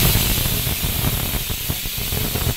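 A pressure cooker vents steam after its whistles while cooking thor (banana stem) dalna, a loud continuous hiss close by that holds steady throughout with no voices.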